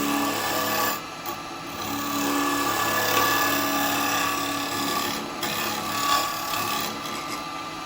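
A woodturning tool rubs and scrapes steadily against the bottom of a wooden pot spinning on the lathe, a continuous rasping hiss that dips briefly a couple of times and carries no talk.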